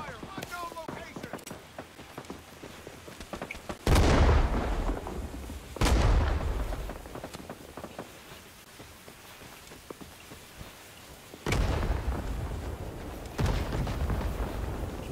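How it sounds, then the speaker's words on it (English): Heavy blasts and gunfire in the Vietnam War shooter Rising Storm 2: Vietnam, several loud booming impacts breaking through a constant crackle of distant shots and rain-like battle noise. "Enemy fire, unknown location."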